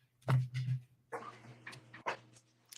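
A dog whimpers and whines close by in a few short, low, nasal bursts, followed by some rustling and a faint voice-like murmur.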